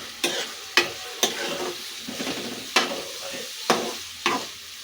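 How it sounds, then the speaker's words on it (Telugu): Drumstick pieces and onion frying in oil, a steady low sizzle broken by six or so sharp stirring scrapes at irregular intervals, close and clear with no talking. "ఉల్లిపాయ ములక్కాయ కొంతసేపు నూనెలో బాగా మగ్గనిద్దామండి"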